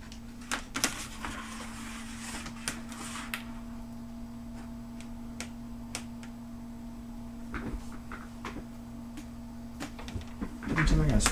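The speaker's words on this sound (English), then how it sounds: "That's actually the hard drive we're hearing now." Hard drive running inside an Asus all-in-one computer with overheating issues, a steady low hum under sporadic sharp clicks and ticks, with a louder rustle at the very end.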